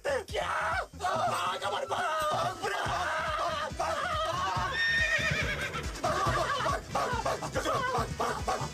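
A horse named Toofan neighs and whinnies loudly several times in a comedy scene, the calls mixed with laughter, voices and shuffling noise.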